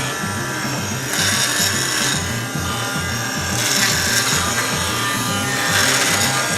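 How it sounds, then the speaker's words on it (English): A handheld immersion blender whirs and grinds through vegetables with heavy cream and basil in a pot, buzzing steadily up close with louder surges as it churns. "now take your hand blender"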